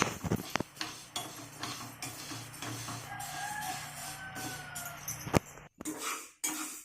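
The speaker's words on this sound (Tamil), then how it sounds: "பருப்பை வந்து இப்போ நல்லா பொன்னிறமாக வறுத்தாச்சு" Moong dal dry-roasting in a pan for payasam, with busy scraping and rattling of the lentils and spatula against the metal in an irregular, close, fairly loud clatter.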